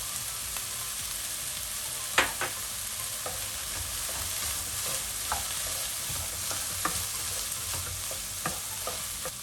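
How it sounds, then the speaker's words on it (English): Peppers and onions fry in a saucepan with cumin seeds, giving a steady soft sizzle with occasional sharp pops and crackles throughout, no voices. "we are going to let them cook until the peppers and the onions start to go soft"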